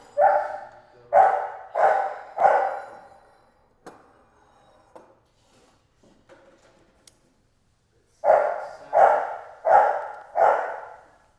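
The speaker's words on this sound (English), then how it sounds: "Hear the dog real clear." A dog barks in two bursts of four evenly spaced woofs each, loud and fairly close, separated by several seconds of near quiet with a few faint clicks.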